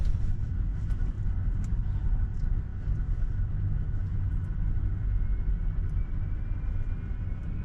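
A Tesla pulls away from an airport curb at JFK in New York, a steady low road rumble with faint cabin hum and no talking, even and continuous throughout.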